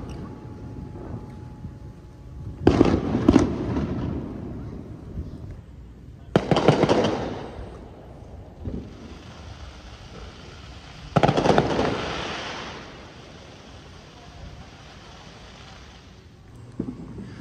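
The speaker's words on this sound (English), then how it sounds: "all these places are having different fireworks shows" Fireworks burst over the water near a golf course by a historic Florida inn, several loud booms and crackling bursts a few seconds apart, heard from a distance with faint talk between them.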